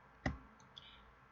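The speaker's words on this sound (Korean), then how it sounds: "다시 컨트롤 키 누른 상태에서 여기 클릭하고" A single sharp computer mouse click while the Ctrl key is held during Photoshop editing, followed by a fainter second click, close and quiet.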